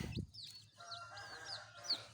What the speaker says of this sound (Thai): โอ้ยลูกไก่เข้ามาทำไมเนี่ย